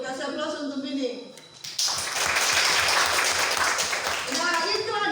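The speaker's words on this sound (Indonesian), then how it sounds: "Kasih aplaus untuk ini." Classroom audience applause at a sewing machine lesson: a sudden swell of clapping from a group, steady and dense for a few seconds, with voices speaking before and as it fades.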